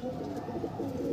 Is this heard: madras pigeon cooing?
yes